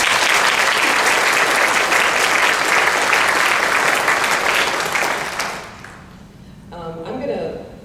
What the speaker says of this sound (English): If we could just give them all a round of applause.